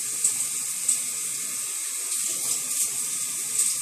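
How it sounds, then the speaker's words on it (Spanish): Water runs steadily into a small bathtub during rinsing, a constant close hiss with a few faint splashes and no talk over it. "Me la estoy enjuagando aquí en la bañerita."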